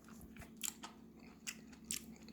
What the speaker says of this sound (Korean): 일단 전으로 한번 먹어볼게요.